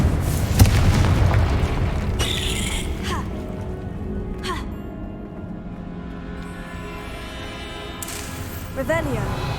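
Confringo fire spell blasts in the Hogwarts Legacy video game, with a strong boom near the start followed by further bursts and crackling impacts amid dense game sound effects and music.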